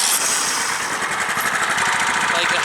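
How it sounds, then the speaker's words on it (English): A 13 hp Kohler engine on a riding lawn mower starts up, its rapid buzzing chug loud and close, settling into a steady running rattle. "Gonna start it now."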